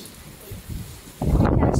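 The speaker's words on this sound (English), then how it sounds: "It's very windy and it's raining." Typhoon wind and rain lash outside, a quiet hiss giving way after about a second to a loud, rough, broadband roar of gusting wind and driving rain that fills the rest of the moment.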